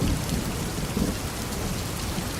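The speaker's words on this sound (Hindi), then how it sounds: "अरे क्या हुआ टूनी, इतनी बारिश में क्यों आए हो तुम लोग?" Heavy rain pours steadily with a deep rumble of thunder rolling underneath, loud and continuous throughout.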